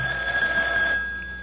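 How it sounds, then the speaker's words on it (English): A telephone rings in a shop, a steady electronic tone that holds and then fades, heard alone against a low background hum. "the phone rings"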